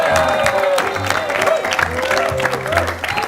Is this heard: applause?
yes